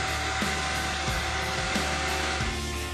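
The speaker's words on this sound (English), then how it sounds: "turn on your vacuum, and now you can get into tight spaces real easy." A vacuum cleaner runs with an attachment fitted to its hose, giving a loud, steady whine and whoosh of airflow. A faint pulsing returns about every two-thirds of a second, and no one speaks.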